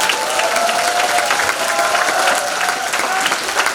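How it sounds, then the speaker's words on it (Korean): A crowd at an outdoor political rally applauds a party leader, with continuous dense clapping and a low murmur of voices running at steady volume throughout. "김병민 최고위원께 박수 부탁합니다"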